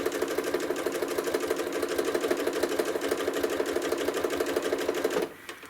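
A sewing machine runs steadily and close, quilting with stitch-in-the-ditch along the seams. Its fast, even clatter continues for about five seconds, then stops abruptly.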